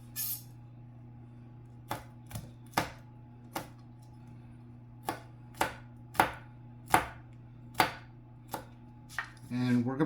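A knife chops two garlic cloves on a board in about a dozen crisp, evenly spaced taps at close range over a low steady hum, followed by a brief scraping at the end.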